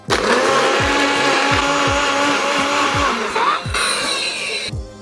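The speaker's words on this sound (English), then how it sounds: "Make sure you have a good quality blender" A blender pulses pineapple pieces and about ten ice cubes for a cocktail, loud whirring bursts with chunks of ice rattling against the jar in quick repeated cycles, then the motor winds down at the end.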